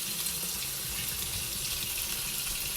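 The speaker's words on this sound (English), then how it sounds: "I'm pouring the water out of the chicken." Water pours out of a container of raw chicken into a kitchen sink as a continuous, fairly loud splashing gush that stays steady for a few seconds.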